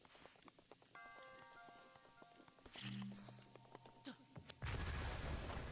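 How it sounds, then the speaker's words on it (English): An explosion goes off in the video game Zelda: Breath of the Wild, a loud broadband blast near the end. Scattered clicks, tones and thuds of game sounds come before it. "I blew myself up."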